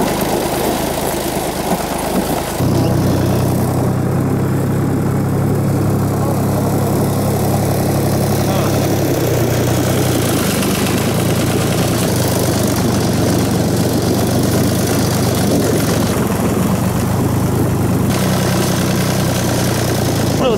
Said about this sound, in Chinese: 后边你看还有个拖拉机，他爸开的